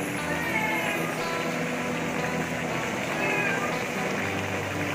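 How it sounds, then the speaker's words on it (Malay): A cat meows faintly a couple of times over a steady wash of background noise in a kitchen where village chicken and pandan rice are cooking for Gawai. "Kucing saya pun mengiau cium baunya."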